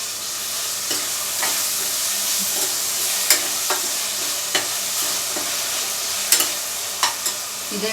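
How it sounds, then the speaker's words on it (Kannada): Tomatoes sizzle and fry in a pan while a utensil stirs and scrapes at irregular intervals, producing a steady loud hiss with distinct clicks and knocks. "ಈಗ 2 ಟೊಮೆಟೊ ತೊಗೊಂಡಿದ್ನಲ್ಲ, ಟೊಮೆಟೊ ಹಾಕ್ತಾಯಿದ್ದೀನಿ."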